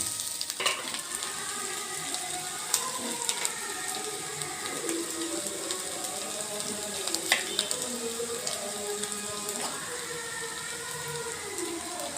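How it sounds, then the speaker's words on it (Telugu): Cooked rice hits a hot pan for egg fried rice, setting off a steady close sizzle with scraping and stirring clicks throughout, no voices. "ఇప్పుడు అన్నం కొంచెం కొంచెంగా అందులో వేసుకుందాం"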